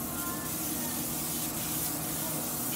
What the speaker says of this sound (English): I'm gonna give the grate a spray with regular Pam cooking spray.